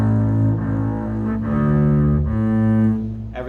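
A bowed string section plays a smooth, connected legato line of sustained notes with gentle note changes, loud and close, with no detached staccato strokes.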